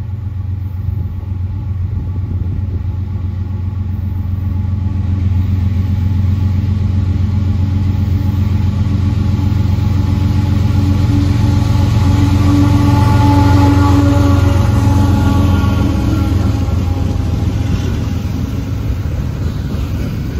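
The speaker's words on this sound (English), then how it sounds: "I can hear our first train of the day coming." A long CSX double-stack freight train rumbles past steadily in Maryland, a heavy continuous roar of rolling wagons and engine that swells slightly midway and stays loud throughout.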